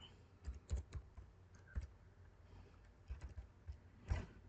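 Keystrokes on a computer keyboard come in short irregular bursts of clicks, fairly quiet and close, with brief pauses between the runs of taps.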